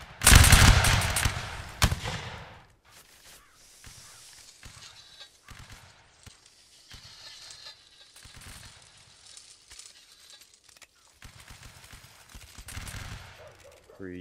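A line of muskets fires a ragged volley in Napoleonic Wars, a loud close crackle of shots in the first two seconds, then scattered distant pops and faint crackling as voices talk.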